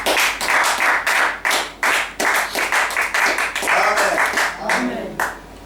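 A church congregation at an evening service claps in a strong, steady rhythm, loud and close, with voices talking and acclaiming beneath the beat.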